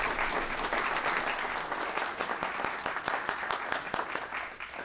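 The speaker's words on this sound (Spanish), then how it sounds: "un aplauso para este panel maravilloso" Audience applauding to welcome a panel at a health-sector conference, steady clapping from many hands filling the room for the whole stretch, with no voices over it.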